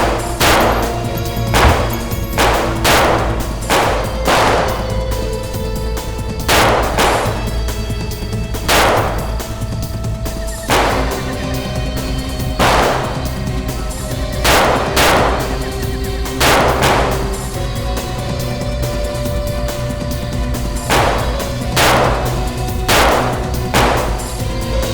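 Repeated gunshots in a TV crime drama scene, sharp loud bangs recurring at irregular intervals over a steady, dense background of music and action noise.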